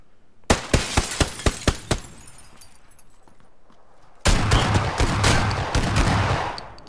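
Shotgun blasts in the battle royale game PUBG, a run of about six loud evenly spaced booms, followed after a quiet gap by a dense stretch of continuous gunfire and impact noise.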